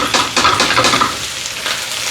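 Vegetables sizzle and crackle in a hot pan, with scraping stirs, loud and close, without any talking.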